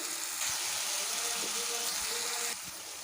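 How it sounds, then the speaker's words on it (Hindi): Eggplant rolls coated in spice batter fry in hot oil, giving a steady, close sizzle that starts abruptly, holds for about two seconds and then drops off. "ये देखिए, इसको हम अच्छे से फ्राई कर रहे हैं।"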